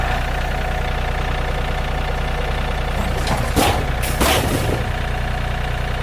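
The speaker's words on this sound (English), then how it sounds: "I'm gonna use the tractor." A tractor engine runs at a steady, close, loud idle, with a couple of brief louder bursts partway through.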